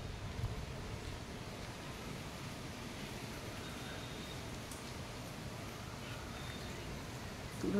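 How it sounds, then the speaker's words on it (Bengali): Strong, storm-like wind blows across an open hilltop, a broad steady rumble and rush buffeting the microphone, continuous and fairly loud with no talking. "পুরো ঝড়ের মতো হাওয়া উঠেছে"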